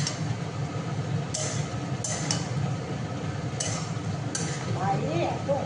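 Spices and potatoes frying and being stirred in a home kitchen pan, with a steady sizzle under repeated scraping and clinks of a utensil against the metal, close and moderately loud, with faint background sound.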